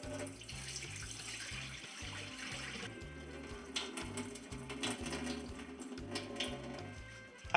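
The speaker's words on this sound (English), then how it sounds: "I'm gonna throw away this water." Rice-washing water is poured away into a sink while making Jamaican rice and peas on the stove, a quiet, steady splashing stream with faint rhythmic knocking beneath it.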